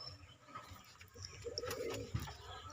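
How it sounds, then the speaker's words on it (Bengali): A pet male pigeon gives soft, low cooing, a few brief rolling coos close by in a quiet room. "আমার বিড়ার পায়রা এটা, আমি শখ করে নটটারে নিয়ে এসেছি।"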